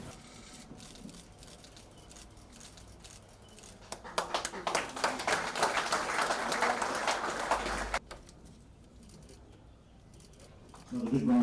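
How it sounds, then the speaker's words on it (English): Audience applause at the opening of a fire station, a burst of clapping in the middle set between quieter background sound. "Another big round of applause."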